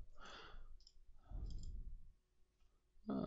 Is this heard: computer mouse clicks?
yes